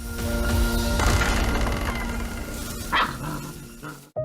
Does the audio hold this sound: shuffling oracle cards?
no